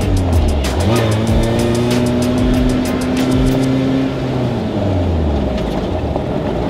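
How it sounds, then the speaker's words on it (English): An Ariel Nomad Tactical's Honda-powered engine drones loudly and steadily, its pitch sliding down as the revs drop under engine braking, with brief crackles near the start. "Engine braking there."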